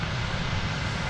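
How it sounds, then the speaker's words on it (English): A regional passenger plane approaches DFW Airport, its engine noise a steady, loud broadband roar with no pauses. "we've got a flight incoming, it's a regional flight"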